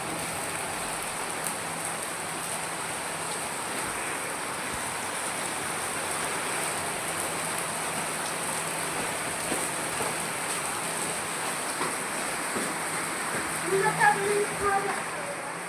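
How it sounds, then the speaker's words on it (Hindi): Heavy rain pours steadily at a home, a dense continuous hiss of drops on surfaces with a few louder splashes near the end; someone speaks over it. "बारिश बहुत तेज हो रही है।"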